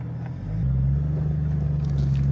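Off-road vehicle on a dirt track near Pioche, Nevada, running in two-wheel drive, with a steady low engine drone that steps up slightly and then holds, close and continuous.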